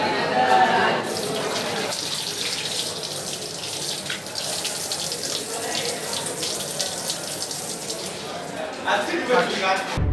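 Water runs steadily from a tap into a sink as hands are washed, a continuous broadband splash lasting throughout with brief louder surges near the start and end; voices talk faintly in the background.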